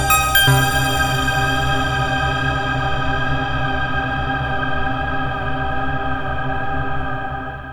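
Polyend synth struck once and left ringing through a big modulated reverb, a bright attack that decays into a long shimmering, wavering tail, loud and alone with no talk.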